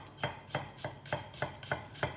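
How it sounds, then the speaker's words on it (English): A sharp knife chopping onions on a board, seven crisp, evenly spaced cuts at a steady brisk rhythm, close and clear with no talk. "So when you're chopping onions, always make sure you've got a sharp knife"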